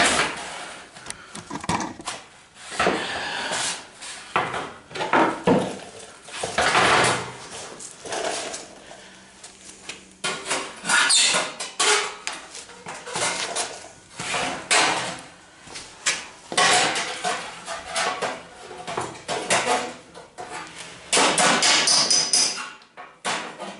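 Hammer and dolly bang repeatedly on the front valance metal of a 1974 MGB during welding repair, sharp close metallic strikes coming in irregular bursts with brief pauses between them.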